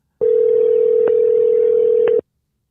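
A landline telephone gives a steady, loud single-pitch tone for about two seconds, with two faint clicks partway through, then stops abruptly into silence.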